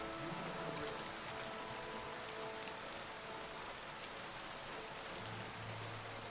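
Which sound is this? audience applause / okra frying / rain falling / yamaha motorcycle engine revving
rain falling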